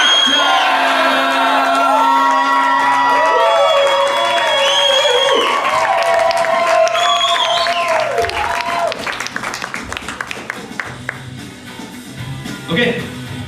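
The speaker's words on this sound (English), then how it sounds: "on the count of 3, everybody go crazy and let's call them in and let's yell, Doctor!" Loud live crowd at an improv comedy show roars, yells and whoops together to summon performers, a dense continuous wall of voices that gradually thins into scattered shouts and applause.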